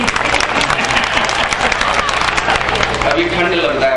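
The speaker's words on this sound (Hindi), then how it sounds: "एक बार अपने लिए तालियां बजाइए जोरदार।" Loud audience applause at a Hindi poetry gathering in Sampla, a dense, sustained burst of clapping from a large crowd, close and continuous with some voices mixed in beneath it.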